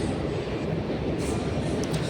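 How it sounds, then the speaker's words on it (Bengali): A train rumbles past on a line near the Godavari river, a steady, close, continuous roar of rolling wagons with no voices heard. "দেখছো ওইদিকেও ট্রেন চলছে"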